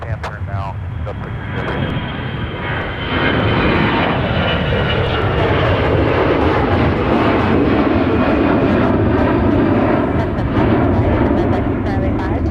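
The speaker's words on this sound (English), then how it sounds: "the Airbus that's turning around directly off your right off of gate Delta 2" An Airbus airliner turns and taxis off a gate at MSP airport with a loud, steady roar of jet engines that swells after a few seconds, while radio chatter runs underneath.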